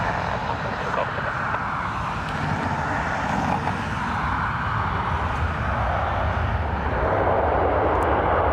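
An airplane at Dublin Airport gives a steady, loud engine roar that runs throughout and swells slightly louder near the end.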